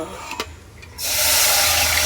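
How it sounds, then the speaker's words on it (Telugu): Water poured from a bowl into flour for homemade finger chips, a couple of faint clinks and then a steady loud rushing pour that continues to the end. "నేను 4 గిన్నెల నీళ్ళు పోస్తున్నాను మొత్తము"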